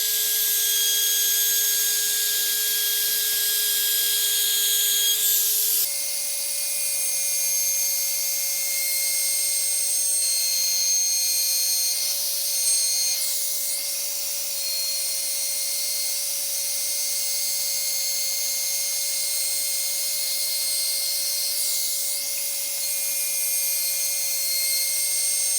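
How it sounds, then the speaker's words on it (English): A palm router with a 1/4-inch round-over bit whines steadily at high speed as it rounds over a wooden cutting board's edges, loud and continuous, its pitch dropping slightly once early on. "I'm just going to use my palm router and a 1/4 inch round over bit just to soften the edges."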